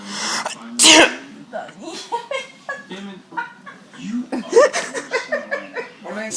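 A fake sneeze blasts out loud and close near the start, followed by steady chatter and laughing voices.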